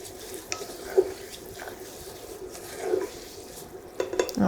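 Grains and hazelnuts cooking in butter in a pan for a cereal praline, a soft low sizzle with a few scraping stirs and light clinks of a utensil against the pan.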